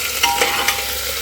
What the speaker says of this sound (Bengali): একটুখানি ভাজা হোক।